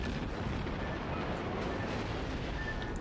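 Heavy battleship shellfire from the North Carolina in World of Warships forms a dense, continuous rumbling roar of blasts and impacts, loud and sustained with no clear gaps between shots.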